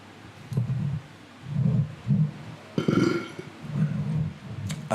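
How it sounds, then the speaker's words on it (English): A man's burp on an outdoor patio next to a bar, a single low guttural eruption amid murmuring talk and background chatter. "If you didn't hear that, I burped."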